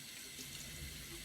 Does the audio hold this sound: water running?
yes